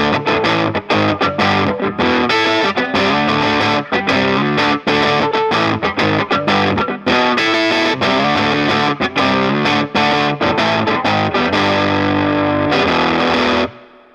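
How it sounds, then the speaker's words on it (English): Traynor YGL1 tube guitar amp switched to pure mode with the tone stack bypassed, driven into a thick distorted tone as chords and riffs are played continuously and loudly, close up, before ringing out at the end. "I'm going to flip the switch to pure, which bypasses the tone stack entirely, and this will give me more of a mid-range boost."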